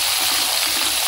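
Garlic cloves and ginger hit hot oil in a pan for a Mumbai street-style jini dosa, giving a steady, close, loud broadband sizzle with no break.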